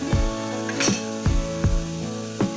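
Onion and garlic frying in a pan for a traditional Maharashtrian besan-ball curry, a steady sizzle punctuated by five or six sharp metallic clinks of a spoon stirring against the pan, close and clear.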